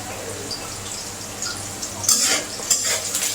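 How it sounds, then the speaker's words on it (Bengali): Onions frying in a pan with a low sizzle, followed by a few quick metal-on-pan scrapes and stirs near the end, close and fairly quiet. "পেঁয়াজ ভাজাটা হয়ে গেছে,"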